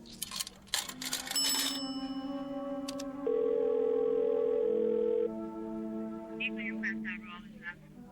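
A steady telephone dial tone in an old-time radio drama, a single continuous hum held for about two seconds over a bed of music, with chimes and other tones before and after.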